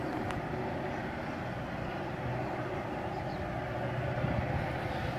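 A CSX train accelerating out of a siding at Trenton Park, Ohio, a steady low locomotive engine rumble and drone building slowly, moderately loud and continuous with no talking.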